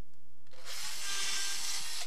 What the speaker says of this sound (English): Drill 2 more holes at different angles to the first nail.